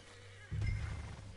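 A horse whinnies once in Red Dead Redemption 2, a short, fairly loud neigh that breaks in over a low steady game background hum.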